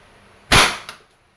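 A single shot from a Crosman 2240 bolt-action, single-shot CO2 airgun: one sharp, loud, close crack with a short tail and a faint second tick just after, then quiet.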